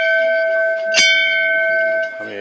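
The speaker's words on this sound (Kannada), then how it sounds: "ಬೆಲ್ ಹೊಡಿಯೋಣ" A temple bell at Shankaracharya Temple in Srinagar, Kashmir, struck once with a loud bright clang that rings on as a sustained metallic hum, with faint background voices and activity.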